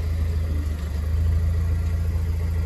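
A Pontiac Solstice GXP race car built for SCCA T2 competition idles steadily with a low, even engine hum and a faint mechanical rattle, close and continuous with no talk.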